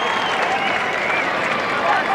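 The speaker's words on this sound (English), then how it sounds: "David Furner leaves the field, so to a generous round of applause" A rugby league stadium crowd applauds as Bulldogs player David Furner leaves the field in a 1995 match against Canberra. The applause is a steady, dense roar of crowd noise under a commentator's voice.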